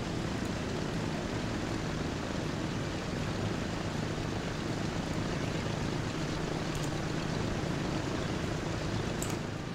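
Propeller drone of a DC-3 airliner taxiing slowly along a taxiway in the Transport Fever game, a steady loud engine hum with no break throughout.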